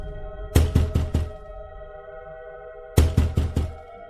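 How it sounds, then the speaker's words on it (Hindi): Two bursts of knocking on a house door at night, four quick raps in each group separated by a pause, loud and close over a faint steady hum. "फिर वह उस घर का दरवाजा खटखटाती है।"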